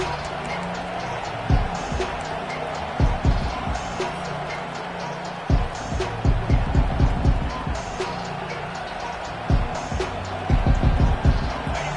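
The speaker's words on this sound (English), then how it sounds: "And the crowd is getting into it early here on 3rd and 10." Crowd noise from a college football game on third and ten, a steady stadium roar swelling in waves beneath a broadcast commentator's talk, with bursts of louder cheering.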